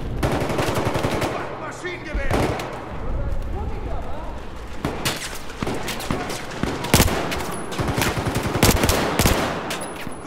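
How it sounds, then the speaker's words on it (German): Machine gun fire in the video game Battlefield 4, loud sustained bursts of rapid automatic shots with heavy booming impacts and explosions, continuing throughout alongside battlefield noise. "Maschinengewehr!"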